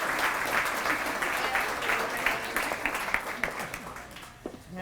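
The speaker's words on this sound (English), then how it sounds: "I recommend you all applaud loudly our great District Attorney" Applause from an event audience honoring a district attorney, dense steady clapping filling the room for the full stretch, fading slightly near the end with some voices mixed in.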